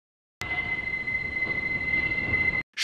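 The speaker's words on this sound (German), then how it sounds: "Schau mal, eine Straßenbahn. Das ist so etwas Ähnliches wie eine Eisenbahn, die in der Stadt fährt." A tram in the Benjamin Blümchen video game rolls past with a steady rumble and a high, sustained wheel squeal, starting abruptly and cutting off after about two seconds, with no talk.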